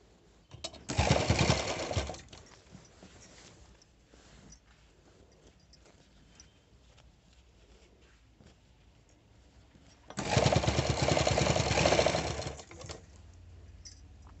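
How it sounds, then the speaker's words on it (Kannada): Two bursts of a sewing machine stitching a collar onto a shirt, each a couple of seconds of fast, steady whirring, separated by a long quiet pause. "ಅಲ್ಲಿಂದ ಈ ಥರ ಪೀಸ್ನ ಇಟ್ಟು ಸ್ಟಿಚ್ ಮಾಡ್ಕೊತ ಇದ್ದೀನಿ"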